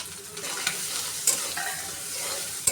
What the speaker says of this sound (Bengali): এখন আমি হলুদ লবণ দিয়ে মাছটা চিংড়ি মাছটা সুন্দর করে ভেজে নেব